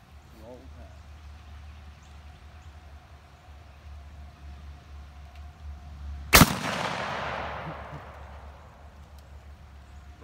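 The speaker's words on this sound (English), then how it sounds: "Am I shooting all these or y'all shooting these?" One loud gunshot cracks sharply and echoes as it decays, standing alone over a low steady background hum.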